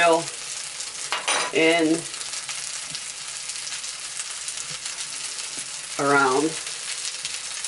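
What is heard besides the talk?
haddock pan frying in coconut oil, sizzling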